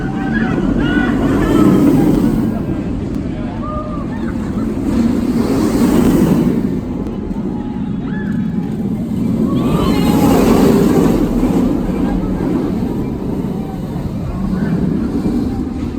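A Valkyria dive roller coaster at Liseberg in Sweden rumbles steadily in a loud, continuous roar with swells of wind rushing past the riders, building and easing in waves over the ride.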